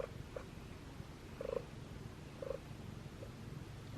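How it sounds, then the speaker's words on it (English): A pet cat purrs softly up close, a low steady rumble with faint rhythmic pulses and no talking. "Can you hear her purr?"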